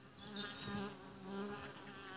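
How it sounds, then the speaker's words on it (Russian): A small honeybee swarm hums near a hive or bait trap, a steady low drone with wavering pitch as individual bees fly past close by. "Судя по гулу и по прилету"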